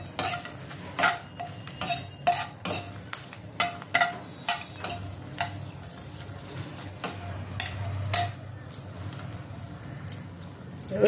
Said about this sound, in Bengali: এবার আমি একটু তেল দিয়ে দিচ্ছি কড়াইয়ের মধ্যে। এবার আমি ফোড়নটা দেবো,